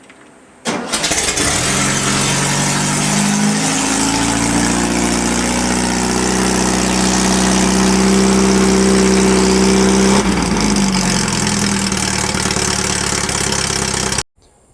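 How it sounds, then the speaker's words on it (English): A dune buggy engine cold-starts with a cranking burst, catches and settles into a loud, steady idle lasting many seconds, then a brief dip and change in pitch before it cuts off abruptly. "feels like it might be time for a cold start"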